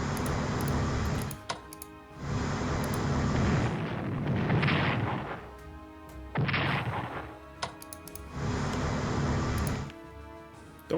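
Naval bombardment of Naha in the Strategic Command WW2 Pacific war video game, a series of heavy booming explosion and gunfire effects in loud bursts separated by short gaps, with no talk.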